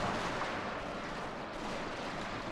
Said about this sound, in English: the artillery is having a little bit of time hitting because of friendly fire